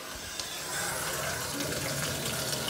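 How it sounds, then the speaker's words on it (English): Water rushes steadily through drain pipes hidden behind a hallway bathroom wall, a broad continuous hiss that swells slightly after the start and holds at moderate level. "watch what happens when we run the water behind the wall"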